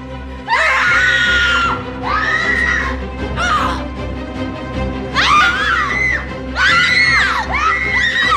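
A group of people screams in several loud, shrill bursts, some overlapping like a shouting crowd, with short gaps between the outbursts.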